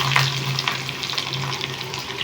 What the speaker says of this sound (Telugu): ఇలా వేగిన తర్వాత ఇందులోనైతే నేను ఒక ఉల్లిగడ్డ వేసుకున్నాను